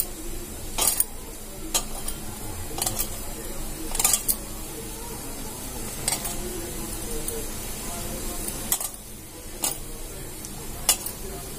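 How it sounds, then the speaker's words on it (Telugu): Masala spices being mixed by hand into raw fish pieces for a crispy fish fry, heard as soft wet squelching and stirring with a few sharp clicks, steady and close throughout. "ఇప్పుడు వీటన్నీ కలిపి ఒకసారి మిక్స్ చేద్దాం."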